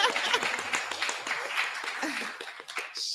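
An audience at a book launch breaks into clapping, a moderate patter of applause from a smallish group with some voices mixed in.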